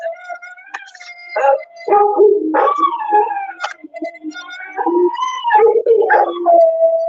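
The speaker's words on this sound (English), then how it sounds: "Oh my God, the dogs." Several dogs howl and bark close by, loud and alone, with wavering, rising howls broken by short yips and whimpers throughout.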